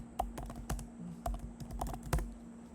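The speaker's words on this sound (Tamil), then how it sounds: "ஸ்பேஸ் பாரை தட்ட போகிறீங்க" Quick keystrokes on a computer keyboard, with a few heavier taps of the space bar, typed at a close, steady but uneven rhythm while entering a search query.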